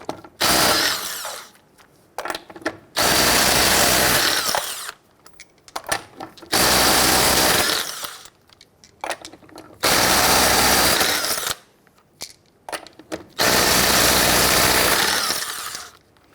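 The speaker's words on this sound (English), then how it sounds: "Using your 19mm socket, loosen and remove your lug nuts." Impact wrench on a 19mm socket loosening and removing lug nuts from the rear wheel of a 1999-2004 Jeep Grand Cherokee, five loud, close bursts of whirring and hammering separated by short pauses.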